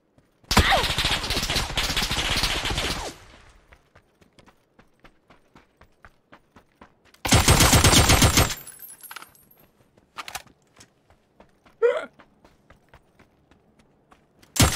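Two loud bursts of rapid automatic gunfire in PUBG with a stretch of quieter clicks and scattered shots between, sharp and close.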